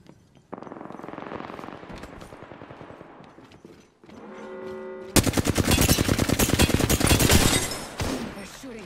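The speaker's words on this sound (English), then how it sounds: "They're shooting at me." Enemy gunfire in a shooter game rattles in rapid bursts, with scattered shots at first and then a loud, sustained automatic volley near the end.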